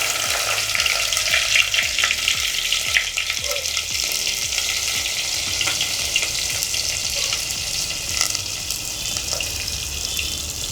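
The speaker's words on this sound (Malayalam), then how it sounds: "ഞാൻ ഇതിലേക്ക് 1 ടീസ്പൂൺ കടുക് ഇട്ട് കൊടുക്കുവാണ്." Mustard seeds and fenugreek spluttering in hot oil for rasam, a loud close hiss of frying with rapid crackles and a steady run of sharp pops throughout, no voices.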